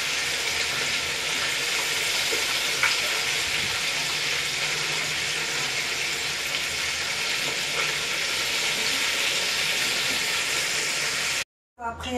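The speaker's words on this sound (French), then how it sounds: "on peut même frire avec les crevettes" Shrimp frying in hot oil: a steady, bright hiss and crackle of sizzling that holds evenly for about eleven seconds before cutting off, with brief faint scrapes underneath.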